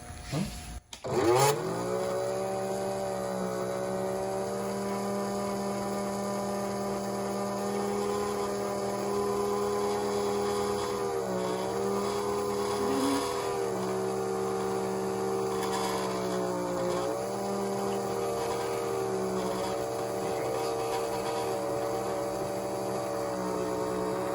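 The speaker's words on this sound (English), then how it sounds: "put that car right there, and watch the log roll up" A Lionel toy train log loader accessory runs with a steady electric motor hum and whine that dips and rises slightly as the logs roll, preceded by a sharp click at the start.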